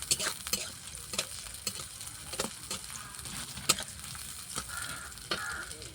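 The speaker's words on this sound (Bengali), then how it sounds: "একটু লাড়াচাড়া করে পেঁয়াজের পোল আর আলু ঢেলে দেবো।" Onion stalks and potatoes frying with green chilli and cumin, a soft continuous sizzle punctuated by sharp scraping clicks of a spatula stirring the pan at an uneven pace, quiet and close.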